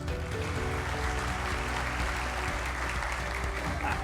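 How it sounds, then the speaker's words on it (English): Sustained applause from an audience at a Marwadi University event in Rajkot, dense and even clapping filling the whole stretch with no break. "With a huge round of applause."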